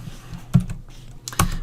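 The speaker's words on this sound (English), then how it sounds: "what I do to switch between here is Alt Tab on my keyboard" Two sharp clicks of keys pressed on a computer keyboard for an Alt Tab shortcut, close and crisp with a short pause between them in a quiet room.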